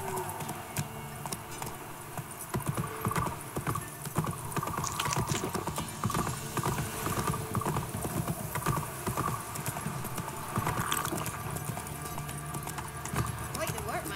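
Horse hooves clip-clop steadily in The Witcher 3, a continuous rhythmic clatter of hoofbeats with an occasional whinny, mixed with background game sounds and a voice speaking over it.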